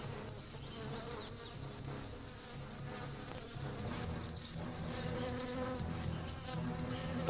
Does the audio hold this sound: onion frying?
no